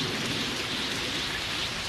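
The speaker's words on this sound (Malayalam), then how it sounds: "നീ മരിക്കാൻ പോകുന്നത് മഴയും ഇടിയും കാണാൻ വന്നത് കണ്ടോ?" Heavy rain pours with a low rumble of thunder in an animated action film, a dense steady hiss filling the brief moment without any voices.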